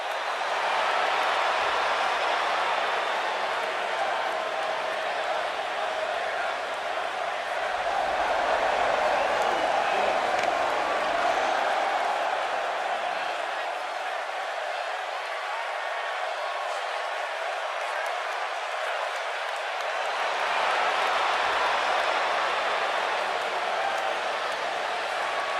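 Sold-out arena crowd cheering before a fight, a sustained roar of many voices that swells and dips over nearly half a minute, with distant whoops and clapping mixed in.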